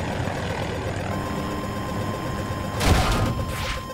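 Helicopter in the Battlefield 2042 video game, a steady whirring rotor drone throughout with a louder burst of gunfire or impact noise near the end.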